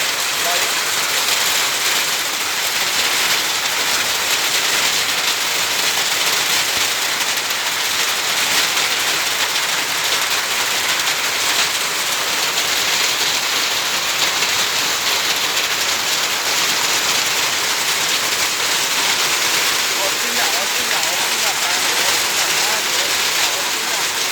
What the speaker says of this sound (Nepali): असिना पर्न स्टार्ट भयो गाइस।